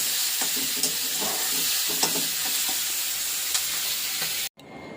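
Home cooking in a pan, ingredients sautéed and stirred over steady sizzling and hissing, with scrapes of a spatula recurring every second or so, then a brief cutoff near the end.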